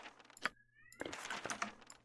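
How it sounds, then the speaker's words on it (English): A pet cat meows once or twice, faint and brief, in a quiet room under a game's background sounds. "you might hear my cat in the background"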